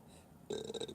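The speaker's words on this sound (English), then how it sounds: "I'm burping this shit all rude" A single short burp, close and fairly quiet, rises out of a faint background and lasts about half a second.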